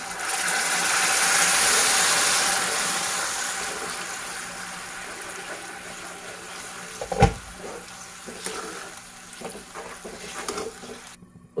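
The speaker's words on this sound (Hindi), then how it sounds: "अब उसके बाद हम इसमें गर्म पानी शामिल करेंगे।" Hot water poured into a pot of Sindhi-style tofu curry, a loud rushing pour at the start that tapers off, followed by quieter kitchen knocks and a clunk.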